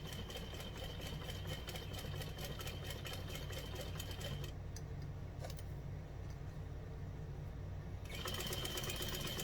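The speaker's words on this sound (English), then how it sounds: "I'm going to sew down this side." A sewing machine stitches a vinyl clutch in a rapid, even mechanical patter, close and faint, pausing briefly partway before resuming, with no voices.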